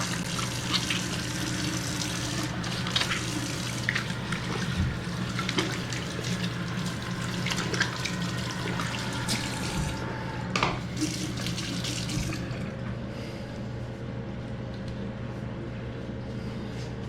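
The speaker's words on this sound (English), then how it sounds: "And then we're just going to wash up." Water runs steadily from a tap into a sink while hands are washed, a close, continuous splashing rush with a few small knocks and bumps, and no talking.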